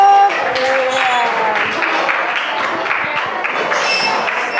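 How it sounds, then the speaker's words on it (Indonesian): A classroom of students claps for themselves in a dense, steady burst of applause lasting several seconds, close by, with a few voices mixed in. "Oke, tepuk tangan dulu untuk diri sendiri."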